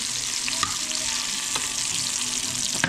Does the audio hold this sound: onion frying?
yes